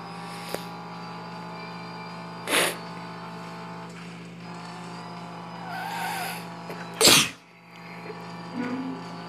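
A person sneezes twice, two sharp bursts spaced a few seconds apart, over a steady droning background hum.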